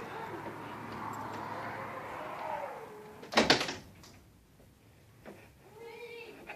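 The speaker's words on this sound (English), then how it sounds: "Hold on, I'm gonna close this door." A house door is pushed shut during a home viewing, one sharp close thud and rattle midway, preceded by a low hum and followed by quiet room noise and a few soft knocks.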